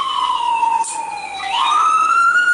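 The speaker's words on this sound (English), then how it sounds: "Ambulance?" An ambulance siren passes nearby, a loud sustained wail whose pitch glides down and then sweeps back up, with no speech over it.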